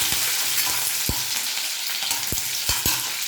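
Green chillies and curry leaves frying in hot oil for adai, a dense crackling sizzle close up, punctuated by a few sharp taps and scrapes of a spoon, no talk.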